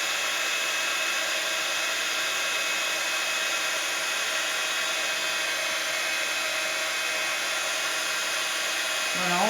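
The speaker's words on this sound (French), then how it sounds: "Donc avec mon pistolet chauffant," A heat gun blows continuously over a paper sheet with a steady, loud, hissing whoosh that barely changes throughout.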